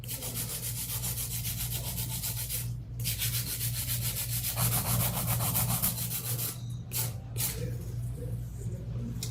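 A steady high-pitched whirring grind of an electric nail drill filing nails runs continuously, with brief pauses near the middle and end, close and moderately loud.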